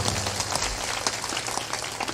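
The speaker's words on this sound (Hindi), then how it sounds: "ताली बजाकर इनका सम्मान" An audience claps together to honour a guest at a religious storytelling gathering; dense, steady applause fills the whole moment without pause.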